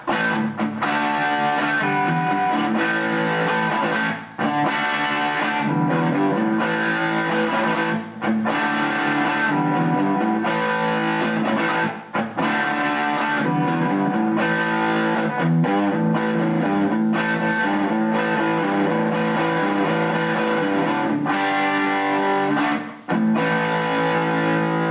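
An electric guitar plays an intro riff, choppy chords with short melodic runs over the E, loud, close and mildly distorted, with brief breaks between phrases.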